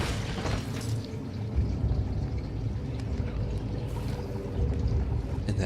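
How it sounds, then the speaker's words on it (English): Heavy booming and scraping from a monster breaking through a door in the horror game Amnesia: The Dark Descent, a continuous loud low rumble with thuds and crashes through the whole stretch. "Yeah, he's breaking through the door."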